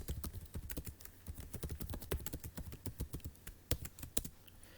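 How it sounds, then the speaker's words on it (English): Rapid, uneven clicking of keys on a computer keyboard, close and fairly quiet, in irregular bursts of keystrokes with no talking. "So if you go ahead and type this in"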